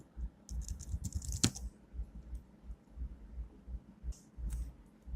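Fingers type on a computer keyboard in quick bursts of close, crisp key clicks separated by short pauses, with a louder keystroke near the start.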